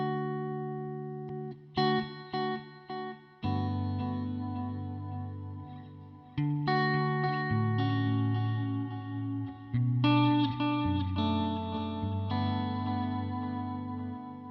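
An electric guitar played through a budget delay and reverb pedal rings out in separate picked notes and chords, each one trailing off in echoing repeats and a reverberant wash, with no talk.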